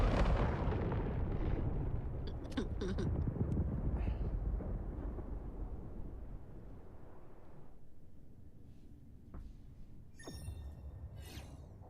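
Game explosions and gunfire from Helldivers-style co-op shooting, with heavy booming blasts and rumble dominating the first half, then scattered pops and bursts fading lower toward the end.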